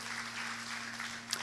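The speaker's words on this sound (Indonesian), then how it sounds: "Ayo kasih tepuk tangan kemuliaan dulu buat Tuhan kita." Congregation in a church applauding, a steady wash of clapping at moderate distance with no voice over it.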